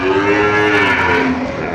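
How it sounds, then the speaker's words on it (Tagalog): Young water buffalo calves at a livestock market in Padre Garcia, Batangas give a drawn-out, wavering moo, loud and close, with steady market background noise behind it. "Mga guyang kalabaw."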